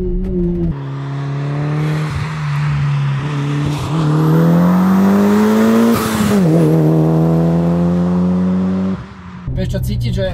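A rally sports car, a Toyota GR Yaris or a Lancer Evo 8, accelerates hard with a loud, close engine note rising and falling through revs while the tires squeal, and people talk over it.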